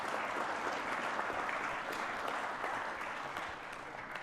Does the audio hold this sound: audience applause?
yes